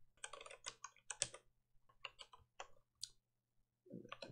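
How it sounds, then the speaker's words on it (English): Keys clatter on a computer keyboard in uneven bursts of quick clicks with short pauses, close and fairly quiet, while someone writes code for a router DSL. "This keyboard really is going to take a while to get used to."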